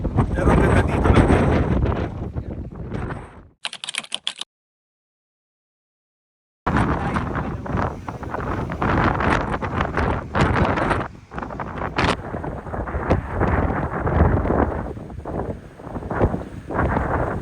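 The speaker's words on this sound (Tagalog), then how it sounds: "natatakot na ako yung lakas ng hangin" Strong wind buffets a boat out on open water, roaring across the microphone in heavy gusts, cut by a brief gap of silence, while people talk under the noise.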